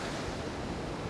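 Sea waves crashing at the shore during a fishing trip, a dense continuous roar of surf with wind noise, loud and close for the whole brief moment.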